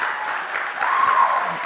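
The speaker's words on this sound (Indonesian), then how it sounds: "Tepuk tangan dong buat tepuk teman-teman semua." Audience clapping at a school event at MAN 2 Pekanbaru, a steady wash of applause from a crowd that swells slightly near the end, with faint voices mixed in.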